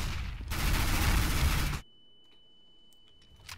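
Gunfire in CS:GO, a dense burst of rapid shots lasting over a second, then a near-silent stretch holding a thin steady tone before another shot starts at the end.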